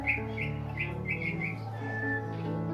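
Young and adult Javan munias and Java sparrows kept as cage birds: a run of quick, high, close chirps in a loose rhythm, followed by a thin whistled note over a low steady background hum.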